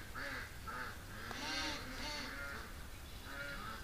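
A duck outside a barn quacks repeatedly in a run of nasal, harmonic calls, fairly close and faint against steady background noise.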